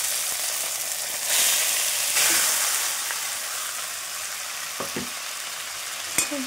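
Sago pearls and cardamom sizzle loudly in hot ghee, a steady close frying hiss that swells as the pan is stirred, with a few light spoon knocks.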